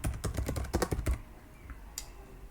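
Rapid clattering of computer keys for about a second, a quick burst of close, crisp clicks that stops, then a single faint tap later against quiet room tone.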